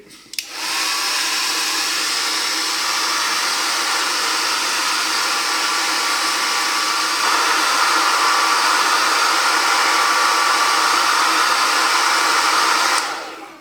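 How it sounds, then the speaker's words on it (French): A hair dryer blows steadily and loudly for over ten seconds, softening parts of a 1/24 scale Revell Kenworth K-900 model kit, its whooshing airflow shifting slightly in tone partway through before switching off. "je les ramollis un petit peu avec le sèche-cheveux"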